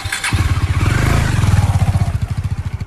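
A KTM motorcycle engine revs up hard and close, a loud, throbbing pulse that rises and then settles into a rapid steady thrum.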